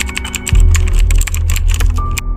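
Rapid, steady clatter of laptop keys typed up close, continuous for a couple of seconds over a low background hum.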